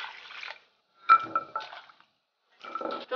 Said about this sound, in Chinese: 再倒水洗净血沫